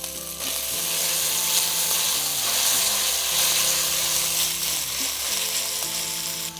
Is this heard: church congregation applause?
no